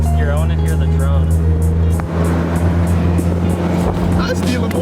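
A Honda S2000 fitted with an HKS Hi Power exhaust drones in sixth gear, a steady low hum that holds loud and even from inside the car while voices talk faintly over it.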